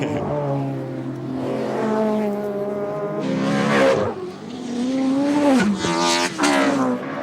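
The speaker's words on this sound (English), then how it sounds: "They're together on the track, the two combatants." Touring cars racing at Oran Park circuit in 1991, loud engines rising and falling in pitch as the cars pass and change gear, with a crowd-like wash underneath.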